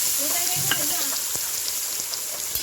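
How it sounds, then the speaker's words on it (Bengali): Garlic paste frying with browned onions in a pan: a continuous, close hiss of sizzling oil, with a few soft stirring taps scattered throughout. "দেখুন এবার আমি রসুন বাটা দিয়ে দেবো পেঁয়াজের মধ্যে।"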